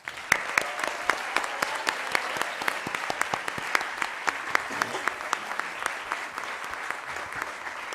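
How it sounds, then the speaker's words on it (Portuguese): Audience at a psychology symposium applauding in honour of social workers, a steady wash of many hands clapping with sharp individual claps standing out, moderately distant and sustained throughout without speech. "Queria pedir um aplauso para esses e essas trabalhadoras"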